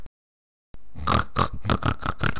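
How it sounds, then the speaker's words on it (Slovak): A pig grunts and oinks in a quick rhythmic string of about seven close, loud snorting grunts after a short silence. "Ono to krochká. Sa čuduj, keď to je prasa"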